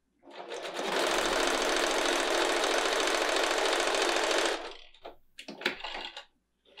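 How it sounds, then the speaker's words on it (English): A sewing machine with a quarter-inch foot stitches fabric in one loud, rapid, continuous run of about four seconds, then stops, followed by a few light handling clicks and taps. "And then I'm gonna go ahead and sew."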